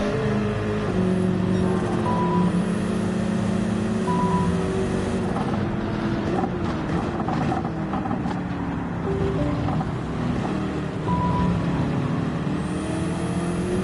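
A BMW M6 race car engine in Gran Turismo 7, droning steadily at high revs with shifting tones as it accelerates and changes gear, loud and close throughout.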